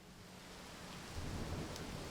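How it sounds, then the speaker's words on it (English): Rain begins falling in the Corpse Factory video game, a faint, even hiss of drops that swells slightly partway through, with a soft low rumble underneath and no voices. "Aoi bursts into tears just as rain begins to spill from the clouds."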